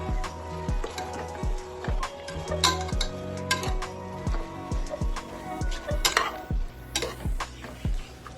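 Mutton frying with tomato and onion for biryani, a steady sizzle under repeated metal-on-pot scraping as the mix is stirred in a regular rhythm, close and moderately loud, with no talk.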